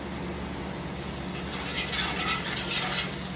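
Oil spreads across a hot Blackstone griddle with a soft, steady sizzle and scraping hiss, close and continuous, with a light swell of scraping toward the end.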